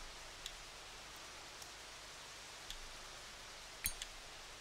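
Steady, faint wash of rain falling over a golf course in the video game Everybody's Golf at Nam Rong Bay, a soft continuous hiss with a few brief crackles and no talk.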